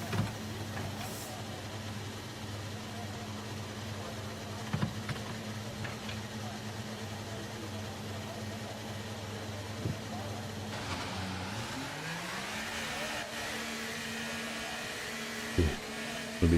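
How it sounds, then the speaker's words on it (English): Race car engines idling and revving in the F1 23 video game, a steady droning hum that rises in pitch near the end as the cars pull away, with a voice talking over it. "Okay, engines fired up."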